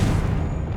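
A short, heavy explosion bursts from a Confringo spell in the video game Hogwarts Legacy: one deep, booming rumble lasting under a second.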